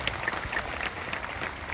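A crowd at an Adivasi mission gathering in Seoni claps, giving a brief burst of dense, continuous applause.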